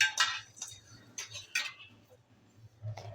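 Garam masala spices dry-roasting in a pan without oil make quiet scraping and clinking stirring strokes in irregular bursts, with faint pauses between them.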